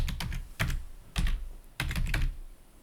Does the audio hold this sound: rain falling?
no